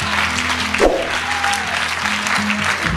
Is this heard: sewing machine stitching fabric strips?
no